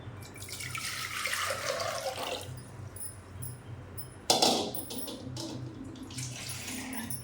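Water is poured from a glass into a cooking pot for the rice of a bisibele bath, running in a steady splashing stream for a couple of seconds, then a second, sharper pour after a pause.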